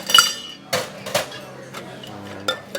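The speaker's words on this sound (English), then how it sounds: "Typically we'd only use 2 ice cubes to shake it." Ice cubes dropped into a metal cocktail shaker in a hotel bar, three or four sharp clinking hits spaced irregularly, close and bright, with quieter rattles between them and no speech.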